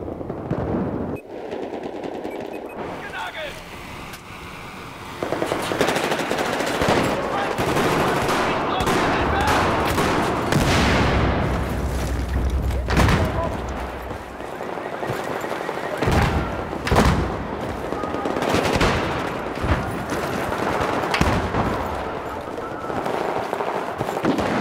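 Battlefield 4 multiplayer combat: dense, loud bursts of automatic gunfire and explosive blasts from a bomber attack, continuing over about twenty-five seconds with brief lulls, and a player's voice talking underneath.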